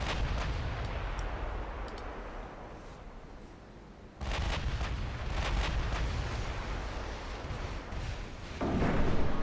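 Naval gunfire in a video game, a destroyer taking heavy fire amid a dense, continuous rumbling barrage of booms and blasts that swells louder partway through.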